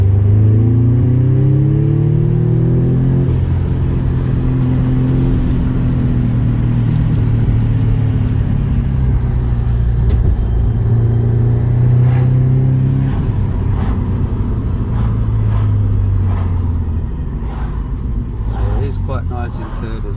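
A manual car in sports mode accelerates hard in third gear, its engine note climbing and sweeping through the revs up close, loud and continuous for the whole stretch.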